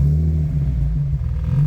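A freshly started forged Nissan 350Z engine idles steadily with a deep, close low rumble and a faint metallic exhaust rattle running through it, with no talking.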